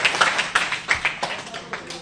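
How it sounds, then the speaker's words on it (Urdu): An audience at a press club speech gives scattered, uneven hand claps in a quick ragged rhythm, close and fairly loud, with a voice talking over them. "ملک صاحب کے لیے تالیاں"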